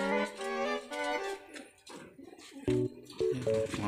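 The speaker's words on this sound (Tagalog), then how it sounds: "Mga kalapatids." Pigeons coo close by in a few short, throaty phrases, one overlapping another, with brief quiet gaps between calls.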